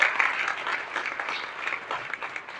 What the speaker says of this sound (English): Please give a big round of applause to yourselves